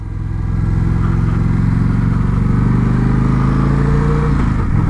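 Indian Scout Classic motorcycle engine running steadily while riding, a loud continuous buzzy drone with a slight pitch rise near the end, heard close with no talking.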